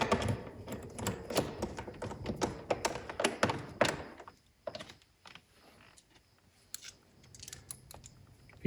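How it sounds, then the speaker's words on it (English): Small metal nuts being threaded by hand onto door mirror mounting bolts inside the door panel of a Chevy Malibu, heard as a close, quiet cluster of rapid light clicks and taps that thins out into sparse ticks. "we can go ahead and thread on the bolts or the nuts"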